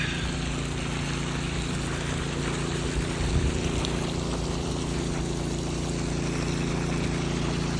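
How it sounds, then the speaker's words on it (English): A semi-trash pump draining a swamp on a mountain building site, heard as a steady, continuous engine drone with watery rushing, constant and fairly loud with no talking. "Of massive drain of the swamp using the semi-trash pump."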